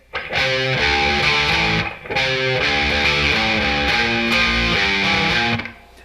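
Heavily distorted electric guitar playing a repeating chord riff, loud and continuous, with a brief break near the two-second mark.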